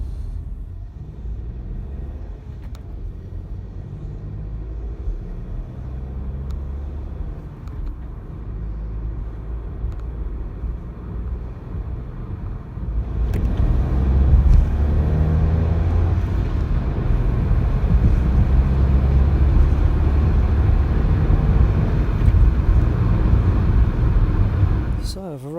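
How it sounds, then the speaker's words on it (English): Road traffic heard from inside a car waiting in a queue, a steady low engine and road rumble that grows louder and heavier midway, with no one talking. "now I'm just sitting in traffic waiting to go"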